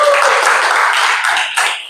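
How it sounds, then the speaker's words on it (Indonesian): Students in a chemistry classroom clap together in a dense burst of applause lasting a couple of seconds, loud and close. "tepuk tangan untuk kalian semua."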